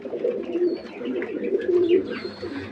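Pigeons in a backyard loft on a rainy monsoon morning coo in soft, throaty, rolling phrases, close by and continuous, with no talking.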